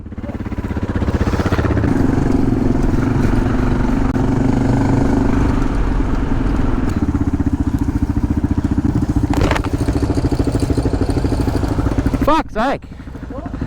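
Adventure motorcycle riding with a loose foot peg rattling, a loud steady engine drone and rough clattering throughout, with a brief voice near the end and sharp knocks just before it.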